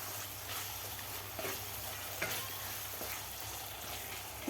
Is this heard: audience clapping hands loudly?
no